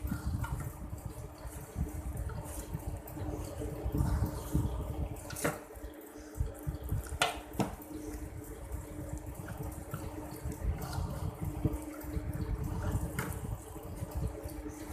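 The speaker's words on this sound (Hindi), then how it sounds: "थोड़ा थोड़ा पानी डाल लें" Water runs and splashes steadily into a bowl of gram flour batter, a continuous trickling pour with a few brief clinks along the way.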